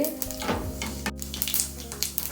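Mustard seeds and urad dal spluttering in hot oil in a pan, a close, busy sizzle with quick irregular pops and crackles over a few seconds, without speech.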